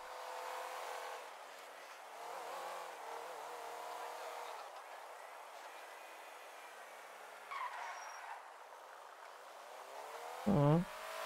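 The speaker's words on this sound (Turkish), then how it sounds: "Bu araba fena değilmiş ha. Sesini falan beğendim." Car engine in Grand Theft Auto V droning steadily at high revs with harmonic whine, shifting pitch as it accelerates, a brief louder rev burst near the end, fairly close and alone.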